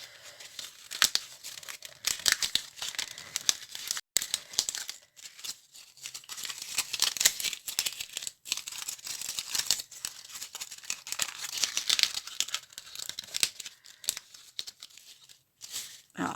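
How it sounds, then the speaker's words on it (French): Paper card being crumpled and scrunched by hand during card making, a steady run of dry crinkling and tearing rustles with brief pauses, close and fairly quiet, with no talking. "Pour le coup, je vais un peu le froisser quand même."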